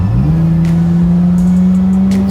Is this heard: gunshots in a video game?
no